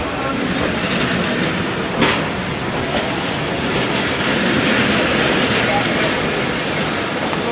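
A Chinese ZCO20 2000-horsepower diesel locomotive hauls the Rehman Baba Express in Pakistan, giving a steady, loud rolling rumble with one brief knock partway through.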